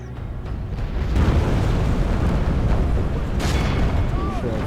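Cannon fire and explosions in the Medieval II Total War video game, heard as a steady, loud, dense rumble of booms and battle noise that swells after the first second and persists throughout, with a faint voice mixed in.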